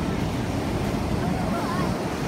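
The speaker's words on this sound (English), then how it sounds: "Look at those waves," Ocean waves washing in at rocky tide pools, a steady broadband wash with some wind noise on the microphone, loud and continuous throughout.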